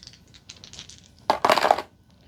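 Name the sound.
dice being thrown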